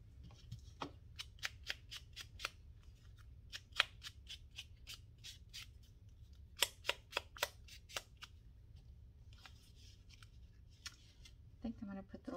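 Scissors snip through paper while cutting out a leaf for a vintage botanical collage, giving a run of crisp, close clicking snips in quick bursts with short pauses between them.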